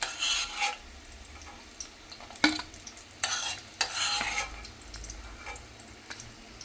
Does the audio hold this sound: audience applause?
no